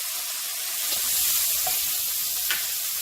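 Garlic added to a hot pan sets off a steady, close sizzle of frying with a few faint clinks and stirring sounds, with no talking.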